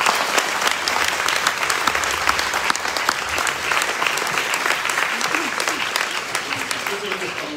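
A large crowd applauds a brass and drum band at its centenary concert, a dense, steady wash of loud clapping that continues without a break, with faint voices underneath.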